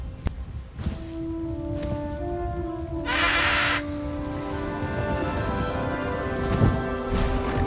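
The hippogriff Highwing in the Hogwarts Legacy video game lets out a harsh, raspy screech lasting under a second, set against sustained orchestral music and scattered thuds.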